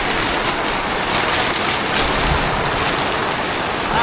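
Heavy rain pours steadily on a hillside, a dense loud even hiss of falling water throughout with no voices.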